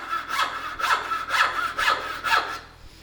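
A dovetail saw cuts through wood in five steady, evenly spaced back-and-forth strokes, each a rasping burst close to the microphone, with no talking.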